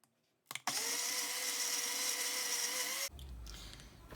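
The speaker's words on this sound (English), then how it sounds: "it's been about a couple of minutes blending this, so our garlic and ginger paste should be done" A blender grinds garlic and ginger with a little water into paste, a loud, steady whir that starts abruptly and runs for about two and a half seconds before cutting off, leaving only quiet room noise.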